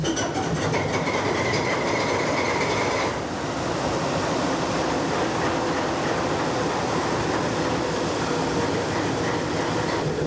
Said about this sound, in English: your fuel pressure's up, your locomotive's running